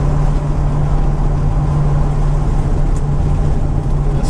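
Steady road noise and engine drone from inside a Plymouth Barracuda cruising at freeway speed, a continuous low rumble with no talk.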